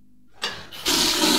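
A toilet flushing aboard a Parma–Florence train, a sudden loud rush of water that surges once more and keeps roaring steadily to the end, close up with no voices.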